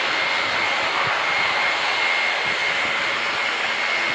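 Aircraft engine at the RIAT airshow at Fairford, likely the Royal Jordanian Falcons aerobatic display, a steady broadband roar held at constant loudness throughout with no voices.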